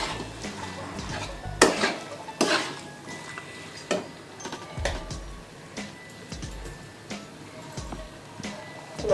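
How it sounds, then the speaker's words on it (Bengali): Chilli chicken is stirred in a pan after two spoons of soy sauce go in, giving scattered metallic scrapes and clinks of the spatula against the pan, irregular and fairly close, with a low background hum throughout. "ভালো করে নাড়াচাড়া দেবো"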